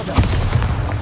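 Spell blasts explode in Hogwarts Legacy combat, a dense run of booming, crackling bursts with no gaps, loud and close over a low rumbling bed.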